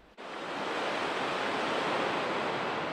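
Steady, loud rushing roar of the Mississippi River pouring over Upper St. Anthony Falls at the lock and dam, a continuous broadband wash of falling water that fills the whole clip after a brief quiet start.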